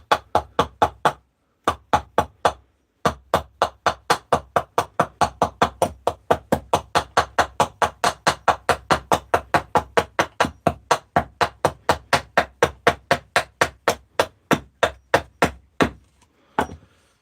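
Steady mallet strikes on a chisel cutting into a wooden bowl blank, dozens of sharp close knocks in a quick even rhythm with brief pauses, loud and alone.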